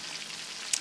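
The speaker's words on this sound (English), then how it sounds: "So I'm frying my chicken in batches." Chicken pieces fry in batches in hot oil in a pan, giving a soft, steady crackling sizzle with one brief sharper pop near the end. No one speaks over it.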